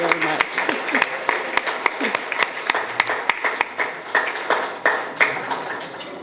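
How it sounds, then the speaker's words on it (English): Steady applause from an audience at the GTF 2013 award ceremony honoring Dr Maisah Sobaihi, dense crowd clapping lasting several seconds with a speaking voice faintly underneath. "a big round of applause to the GTF people"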